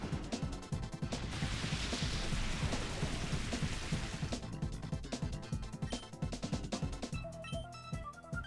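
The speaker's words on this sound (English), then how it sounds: "The drizzle rain will never end." Steady drizzling rain in the Pokemon XD: Gale of Darkness video game, with a continuous patter and hiss against busy game sounds and bright chiming effects near the end.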